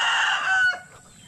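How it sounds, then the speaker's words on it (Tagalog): A chicken gives a short loud call, close by, the sound breaking off and fading into quieter clucking and background noise within about a second. "Oh, dami manok o."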